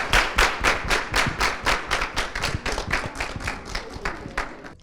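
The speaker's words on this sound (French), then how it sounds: "nous allons raccompagner Pio par des applaudissements" Rhythmic, fairly close applause from a television studio audience, the claps falling into a loose steady beat that gradually thins out over a few seconds.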